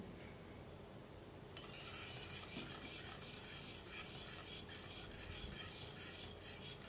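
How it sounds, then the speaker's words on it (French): Cake batter being whisked by hand in a bowl, a steady scraping, stirring clatter of whisk against the bowl that runs continuously at moderate loudness, with no talking. "Fouettez bien."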